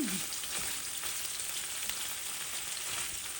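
Paneer pieces fry in a pan for gongura pulihora, a steady dense sizzle with fine crackle running unbroken from start to finish, close and even in loudness.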